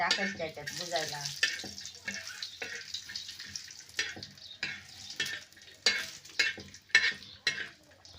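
Dry spices, grated coconut, coriander seeds and turmeric, are stirred and scraped on a very hot griddle over a strong flame, with scratchy bursts and light sizzling, and a voice briefly heard at the start.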